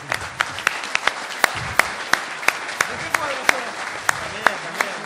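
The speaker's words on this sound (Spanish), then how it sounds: "Osvaldo Papaleo, por el cual pido un aplauso" Applause from an audience at a national thought congress panel in Tandil, with distinct individual hand claps standing out sharply over a fuller clapping bed, lively and close.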